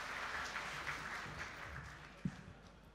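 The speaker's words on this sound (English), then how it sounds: "Give her a round of applause as she makes her way up on the stage" At a lawn bowls Hall of Fame induction ceremony, an audience applauds as an inductee goes up to the stage, producing a faint, distant patter of clapping with one sharper knock near the end.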